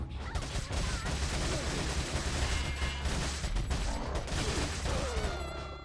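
Gunfire in Resident Evil 4 on PS4 during a fight with Regenerators: loud, rapid bursts of shots crowd together into a dense, almost continuous volley with clattering mechanical noise, easing off only at the very end.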